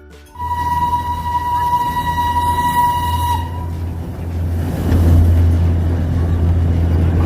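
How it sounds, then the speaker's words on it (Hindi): The Darjeeling steam train arrives at the station with a long sustained whistle, followed by a low, heavy rumble of the locomotive and carriages that grows louder near the platform. "तो ट्रेन के इंतजार के बाद फाइनली ट्रेन आ ही गई।"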